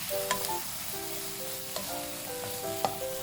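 King oyster mushroom and bite-size sausage pieces stir-frying in plenty of oil, a soft continuous sizzle with a few sharp clicks of a utensil and some tonal whistling over it, quiet and close, no voices.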